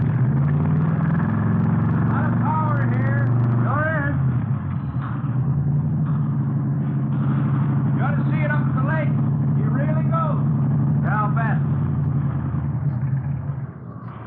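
A 120-horsepower hot rod engine built from salvage cars idles with a deep, steady, throaty rumble up close while people talk over it.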